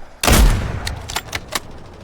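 Gunfire in the Delta Force video game at Space City: one loud, close shot followed by several quicker, fainter cracks trailing off, with no talk.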